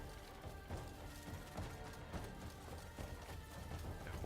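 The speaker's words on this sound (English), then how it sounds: "My horse ran away." Horse galloping away in the video game Crimson Desert, a faint, fairly even patter of hoofbeats under steady background game noise, with no talk.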